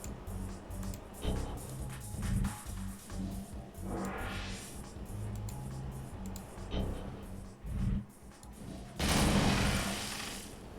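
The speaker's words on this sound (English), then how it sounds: "That was the sound of my demons, I think, breaching a wall." Demon minions in City of Heroes breach a wall with a busy clatter of impacts, crashes and rumbling game effects, moderately loud throughout, with a louder noisy burst near the end.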